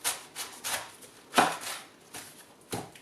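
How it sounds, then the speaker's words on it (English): A knife chops through a red cabbage on a kitchen board, giving a few separate crisp crunching cuts spread unevenly across a few seconds, close and fairly quiet with no talk. "So I have here a red cabbage, rödkål."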